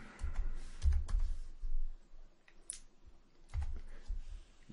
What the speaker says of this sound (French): Là, je vais taper login.